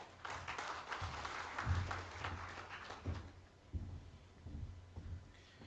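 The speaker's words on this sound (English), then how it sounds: "Let's give him a round of applause," An audience at a maritime security forum claps for an introduced speaker. The applause is faint and sparse, with scattered claps and a few low thumps.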